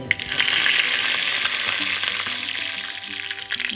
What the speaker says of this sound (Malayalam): അര ടീസ്പൂൺ കടുക് ഇട്ട് പൊട്ടിക്കാം